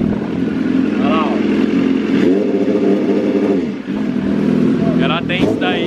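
A 2018 BMW S1000RR motorcycle engine, remapped, revs hard in neutral and bounces off its limiter in stuttering bursts, loud and close, with someone talking over it.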